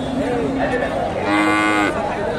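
Friesian-cross heifers at the Dhap cattle market in Bogura, with loud, close, drawn-out lowing moos over a busy market murmur.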